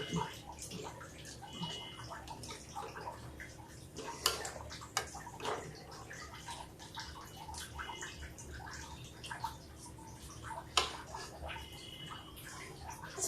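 Water drips and trickles from steamed wheat-flour fare dumplings into a pot, a faint, irregular patter of drops with soft splashes and gurgles now and then.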